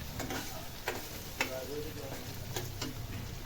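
Onion and tomato sautéing in a pan for a brinjal-potato curry make a steady close sizzle, punctuated by quick rhythmic clicks of a spatula against the pan.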